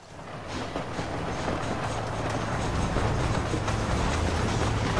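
Train running in Red Dead Redemption, a steady rumbling roll with rattling wheels that builds slightly and stays loud and continuous throughout, no voices.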